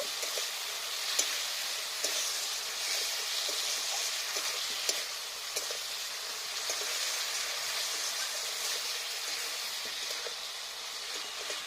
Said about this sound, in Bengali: এবার ভালো করে একটু আলুর সাথে মশলাটাকে একটু ভালো করে কষিয়ে নেব।